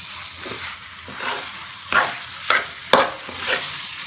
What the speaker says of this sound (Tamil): ஹை ஃப்ளேமில் வச்சு அதை நல்லா மிக்ஸ் பண்ணிடுங்க